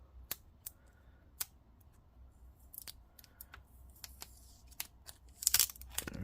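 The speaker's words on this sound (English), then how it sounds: "Gotta peel this stuff off." Adhesive material being peeled off an MSI GE66 Raider laptop: quiet sharp ripping snaps at irregular intervals, ending in a louder burst of tearing.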